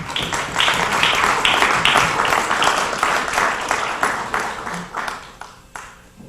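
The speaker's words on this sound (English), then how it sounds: "So would you please give him a round of applause as he joins me at the podium." Audience at an evening honors ceremony for Essex County Jewish Heritage claps steadily as an honoree walks to the podium, a sustained round of applause that thins and tapers off over the last second or two.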